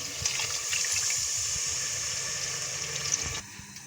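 A small cup of water poured into a pan of egg masala makes a steady splashing gush for about three seconds, then stops abruptly, close and fairly loud, with no voices.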